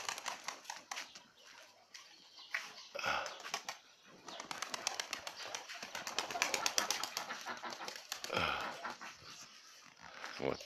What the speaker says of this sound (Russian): голуби никак не успокоятся